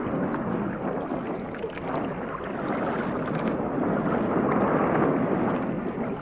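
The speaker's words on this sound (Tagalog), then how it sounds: "ang alon malalaking mga alon guys sobrang hangin" Strong wind and big waves at sea, heard from aboard a small fishing boat: a loud, steady roar of wind and surging water that runs unbroken from start to end, with no voices.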